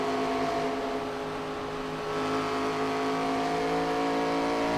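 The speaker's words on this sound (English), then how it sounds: "You hear the RPMs kind of jot up a little bit as they come up off the corner." Simulated ARCA Series race car in the iRacing video game at Dover, engine droning steadily with a slight rise in revs as it powers off a corner, continuous and fairly close with no talk.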